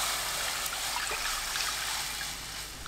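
One liter of water pours steadily into a pot in a continuous close splashing stream, tapering slightly near the end.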